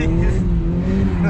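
A turbocharged Honda Civic idles and revs steadily in the snow for a J-turn, with a continuous low engine drone and a faint hiss of tires. Voices talk over it.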